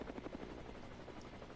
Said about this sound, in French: Donc c'est un hélicoptère lance-missile téléguidé.